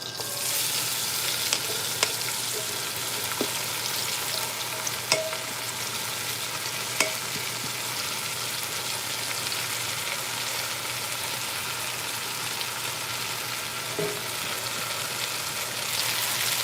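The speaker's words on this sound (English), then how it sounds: "So these are going to saute for about 5 to 7 minutes until they're tender." Chopped onions, garlic, carrots and leek sauté in a pan for braised beef, giving a steady, even sizzle throughout with a few faint clicks of stirring and no talking.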